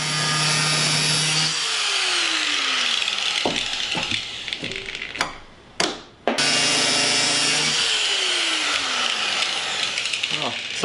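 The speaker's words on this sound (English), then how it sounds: "So with the grinder, with the cutoff wheel, we're gonna cut them off just like that" Angle grinder with a cutoff wheel slicing through a car hood, loud and close, with a sustained whining cut interrupted by brief pauses and clanks before the grinding resumes.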